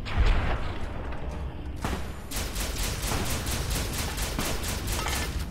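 Rapid gunfire in Fallout: New Vegas as a leg is shot away, a dense run of loud, close, repeated shots that grows into a steady rattling volley after a brief opening burst.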